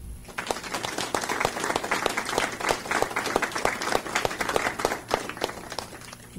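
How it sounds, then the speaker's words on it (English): A small group applauding on an instructional radio broadcast for children, a sparse, uneven patter of individual claps, close and moderately loud, with no talking over it. "let's give ourselves a round of applause"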